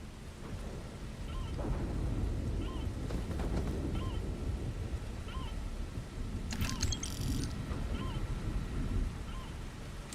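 Heavy rain pours steadily through a nighttime storm in Starfield, with low rumbling thunder rolling underneath and a few brief mechanical chirps and a burst of electronic noise cutting in over the wash.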